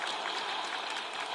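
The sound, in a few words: loud applause for an injured person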